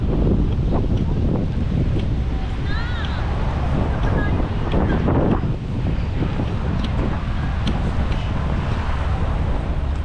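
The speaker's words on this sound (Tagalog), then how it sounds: "Dahil lumakas ang hangin." Strong wind buffets the microphone with a constant loud roar in Rizal Park, Manila, while faint voices and distant chirps come through underneath.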